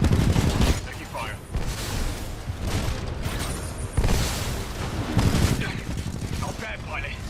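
Dense Titanfall 2 gunfire rattles on nearly nonstop in a loud multiplayer firefight, rapid bursts layered over booms and clatter, with a voice talking faintly underneath.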